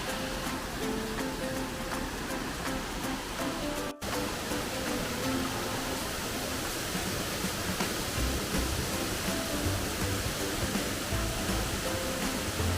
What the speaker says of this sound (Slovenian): Slapovi.